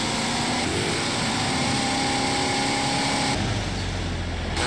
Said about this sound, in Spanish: ¿este coche qué pasa, tío? ¿Que no quiere pillar velocidad o qué?